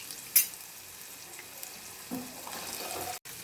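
Raw mango pieces go into hot oil seasoned with asafoetida for a sambharo, giving a low crackling sizzle. A sharp clink comes early and the frying grows a little louder toward the end.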